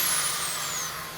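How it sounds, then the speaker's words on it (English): A small Lidl Parkside cordless drill whirs steadily and loudly up close, a continuous high motor hum that slowly winds down in pitch, heard alone in a woodturning workshop. "Brilliant little drill, that one."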